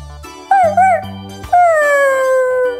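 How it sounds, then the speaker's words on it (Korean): A puppy with an injured leg whimpers and howls in a children's veterinarian role-play. Two short rising whines are followed by a long, loud, drawn-out howl that falls in pitch, over soft background tones. "강아지가 다리를 다쳤잖아?"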